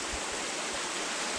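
A waterfall at Triple Falls on Vancouver Island roars in a steady, dense rush of falling water, close and continuous with faint low rumbles underneath.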